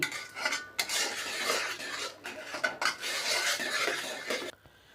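A spoon scraping and stirring a dark jaggery mixture with baking powder in a metal pot, a steady rasping clatter that runs continuously and fairly close, fading out just before the end.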